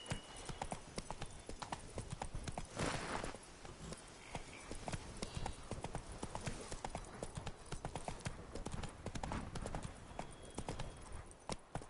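Roach the horse in The Witcher 3: Wild Hunt clip-clops steadily at a brisk gait, a dense rhythmic hoofbeat running continuously and loud, with a short surge of noise partway through.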